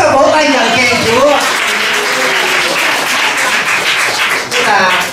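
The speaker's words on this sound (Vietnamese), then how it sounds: "Chúng ta vỗ tay nhờ khen Chúa." Church congregation clapping in praise during a Vietnamese sermon, loud dense applause that carries on under a speaking voice throughout.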